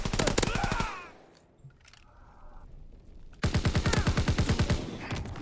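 Rapid automatic gunfire bursts in a 4v4 competitive shooter match, with a dense volley of shots at the start, a short lull with faint clicks, then another sustained loud burst of rapid fire.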